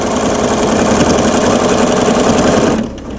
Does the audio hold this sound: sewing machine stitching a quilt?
yes